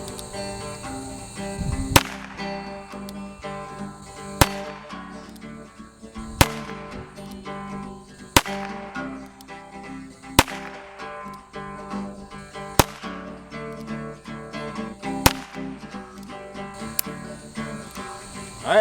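An H&R .22 rimfire rifle fires low velocity .22 long rifle rounds, eight sharp, fairly quiet cracks spaced about two seconds apart over faint background insect chirping.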